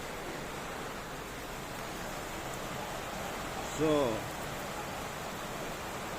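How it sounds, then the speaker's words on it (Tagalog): Heavy rain during a flood pours as a steady, dense hiss throughout, with a brief voice rising over it midway. "naway loobin ng Diyos na mahinto na po yung ulan"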